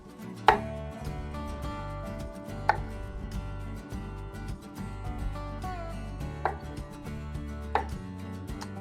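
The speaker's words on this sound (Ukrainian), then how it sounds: "Цибулю ми ріжемо на півкільця приблизно з такої товщини" A knife slicing onion into half-rings on a board: a steady series of close cutting strokes with a few sharper knocks against the board, fairly soft, no voices.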